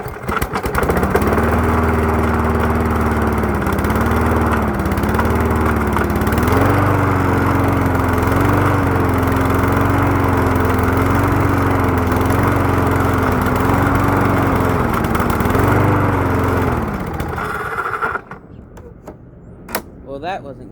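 A small lawn mower engine on a free mower with a carburetor fault, primed with gas, starts and runs loud and close with a wavering throttle for about seventeen seconds, then sputters out.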